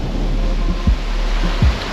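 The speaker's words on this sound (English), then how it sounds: "You know, a little bit windy." Strong wind buffets the microphone in a constant roar, with a couple of low thumping gusts near the end.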